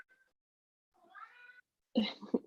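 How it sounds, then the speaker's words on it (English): Domestic cat meowing, a faint short mew followed by a longer, louder drawn-out meow, close against near silence. "It's my cat."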